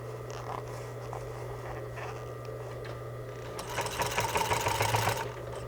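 A sewing machine stitches a curved fabric seam, running with a steady mechanical hum and a low motor drone, then speeding up into a louder, faster rattling burst near the end with no talking.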